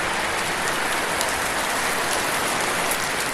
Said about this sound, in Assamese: তামাম ধামাকা বৰষুণ মাৰি আছে।